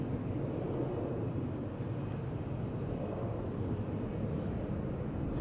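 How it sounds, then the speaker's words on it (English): Boeing 777 airliner arriving from Cape Town at Amsterdam Schiphol Airport, a steady, broad jet roar that holds evenly throughout, heavy low rumble with no break. "777 arriving from Cape Town"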